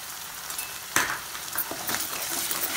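Chicken frying in a pan with onion cashew paste, a steady close sizzle with a sharp clatter near the start and scraping, stirring strokes throughout.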